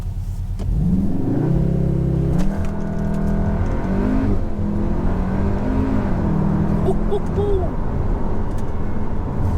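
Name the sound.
Cupra Formentor accelerating with launch control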